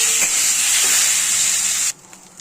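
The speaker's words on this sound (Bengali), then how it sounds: "চিকেনটাকে দিয়ে 10 মিনিট ভেজে নেব চিকেনটাকে" Chicken pieces frying in a pan for a pizza topping, a loud, close, hissing sizzle that runs steadily for about two seconds, then cuts off abruptly to near silence.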